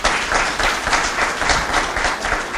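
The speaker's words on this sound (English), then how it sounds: "Can we give Jason really a good round of applause?" A luncheon crowd claps warmly and continuously, a full wash of many hands at close range with a faint murmur of voices underneath.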